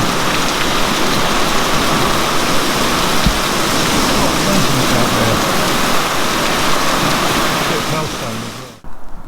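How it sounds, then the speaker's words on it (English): Heavy rain pours down at a boat repair spot, a dense, loud, hissing wash that holds steady for several seconds before cutting off abruptly near the end. "Rain stopped play again."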